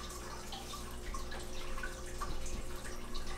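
Liquid fertilizer drips and trickles from an eyedropper into a gallon of filtered water, a soft steady run of small liquid splashes over faint background hiss, close and quiet throughout.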